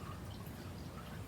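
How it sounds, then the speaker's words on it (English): Calpico, a non-carbonated milky citrus drink, is poured into a glass, giving a faint, steady liquid trickle for just over a second with no talking. "let's pour it in this glass"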